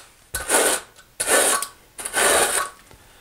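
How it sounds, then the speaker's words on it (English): A quarter-by-quarter notched trowel scrapes tile adhesive onto the wall of a shower niche in three firm, rasping strokes, each about half a second long with short gaps between, close and fairly loud. "I'm using a quarter by quarter trowel."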